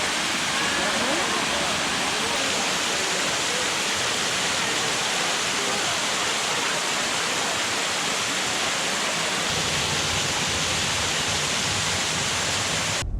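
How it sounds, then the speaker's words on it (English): Laurel Falls, a waterfall in the Great Smoky Mountains, pours with a steady, dense rushing roar heard up close, unbroken and even in level throughout. "Touch the waterfall?"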